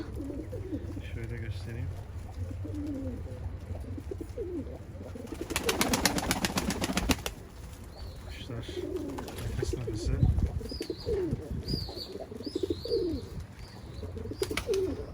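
Tired pigeons that have just landed coo softly close by while someone talks, with a short burst of fluttering partway through.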